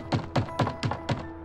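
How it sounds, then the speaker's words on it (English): Five evenly spaced, hollow thumps of knuckles on a wooden door, close and clear with nothing else around them, as a sound effect in a Christmas audio drama. "he reached up and knocked on the door."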